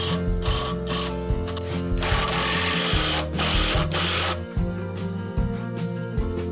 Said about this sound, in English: I'm screwing it together in a way that you won't see these screws